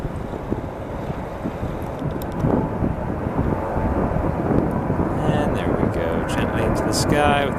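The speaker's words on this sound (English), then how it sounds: "Sky with this A319, probably headed to Charlotte" An Airbus A319 airliner passes overhead at Atlanta's Hartsfield airport on a windy day, a steady broadband jet roar that swells slightly as it nears, with gusting wind noise on the microphone throughout.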